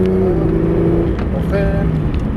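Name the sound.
Porsche 911 GT3 RS accelerating on track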